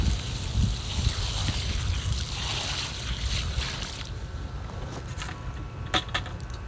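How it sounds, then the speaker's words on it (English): Water poured onto a campfire to drown it outdoors: a steady, fairly loud rushing splash and hiss runs through most of the clip, thinning toward the end with a few sharp crackles. "You drown it with water."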